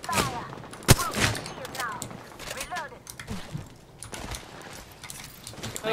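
Bursts of automatic gunfire from an Apex Legends firefight crack out in quick volleys, with several sharp, loud shots early on and further rattling fire throughout, while players' voices talk over the action.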